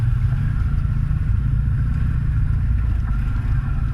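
A Yamaha Grizzly 700 EFI big bore ATV on oversized tires being ridden, its engine a steady, loud low drone with rumbling and faint clatter throughout.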